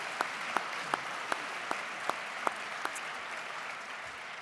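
Sparse applause from a graduation ceremony audience at a hotel school diploma presentation, with sharp individual claps standing out over a steady low hiss, the handful fading after a few seconds.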